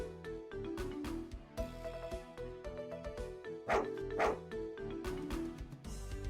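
A dog barks in the video game 7th Stand User R, short repeated yaps set among busy game music and effects, moderately loud throughout.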